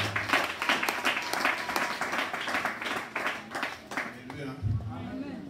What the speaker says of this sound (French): Acclamez pour la gloire de l'Éternel.